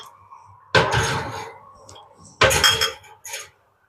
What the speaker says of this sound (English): I will now pop these jars into the oven.